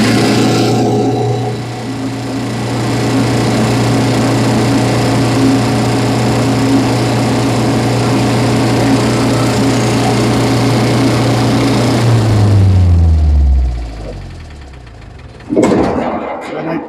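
A generator engine runs loudly at a steady pitch, then shuts down around two-thirds through, its hum sliding downward as it winds to a stop, followed by a brief clunk and quieter background.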